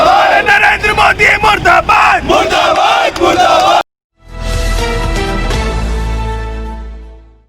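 A crowd of Youth Congress workers shouts slogans in rhythmic, loud bursts of massed voices, close and insistent, then cuts abruptly to a different loud sound.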